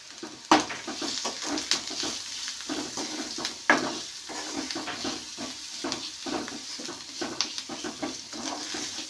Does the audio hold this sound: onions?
yes